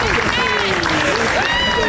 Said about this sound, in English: Much appreciation from the crowd here.